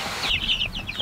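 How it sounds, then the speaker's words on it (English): Three-week-old backyard chickens making brief, high-pitched chirping clucks, several quick calls in a row heard close and alone with faint low background rumble. "These chickens are 3 weeks old, but it's so hot out, we could put them on grass right now."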